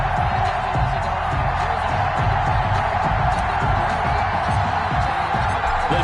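Stadium crowd in an EA Sports NFL video game, Bengals versus Ravens, a dense steady roar of cheering spectators filling the whole stretch, loud and unbroken.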